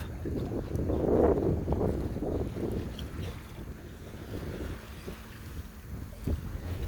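A sailboat makes way under wind on San Francisco Bay, with a steady wash of water along the hull and constant buffeting wind noise, close and unbroken, with no voices.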